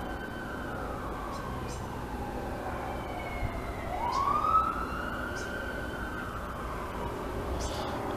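A police car siren wails from a distance, its tone sweeping up as the car races past and then fading, over a low background hum.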